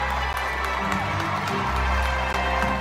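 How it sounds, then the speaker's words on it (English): A large audience roars and cheers continuously at a Disney Legend tribute ceremony, a dense, loud, sustained wall of crowd noise. "The crowd was so loud that Harrison might not have noticed the mus"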